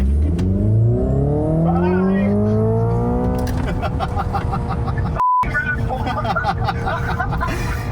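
A Tesla Model 3 Performance and a Hyundai Ioniq 5 N accelerate hard in a race, giving a loud electric-motor whine that rises steadily in pitch for several seconds, then a rushing drive noise while people talk excitedly over it.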